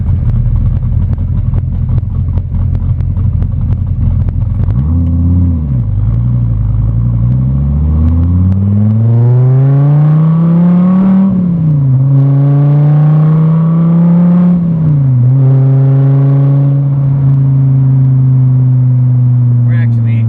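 An A&C Performance Gen 5 car drives around town, its engine droning loud and close as it pulls through the gears, climbing in pitch in long sweeps with brief dips at each shift.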